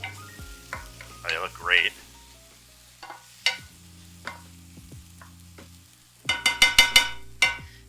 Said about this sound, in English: I'm gonna give my mushrooms a little stir.